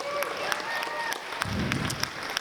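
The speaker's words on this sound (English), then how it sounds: "Round of applause, please." Brief burst of clapping from guests at a charity gala auction, mid-level in a reverberant hall with voices mixed into the crowd noise.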